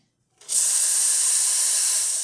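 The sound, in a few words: espresso machine steam wand steaming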